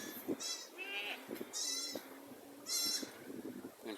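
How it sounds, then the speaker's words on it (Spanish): Goats arriving at a farm in a woodland setting, giving a few loud, nasal bleating calls spaced a second or so apart over a steady background hiss, with no talk. "ya empiezan a llegar las cabras."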